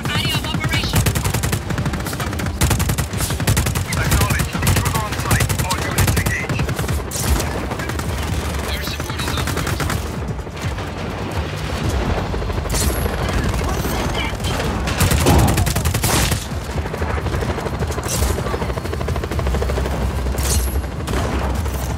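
Continuous heavy gunfire in the video game Just Cause 4 during a Qacha breakout, dense machine-gun fusillades and occasional booms filling over twenty seconds, with voices talking under the shooting.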